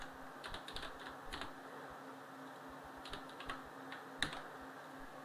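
Computer keyboard keys clatter in scattered bursts while code is typed, light quick clicks with pauses between, close and fairly quiet over a steady room hum.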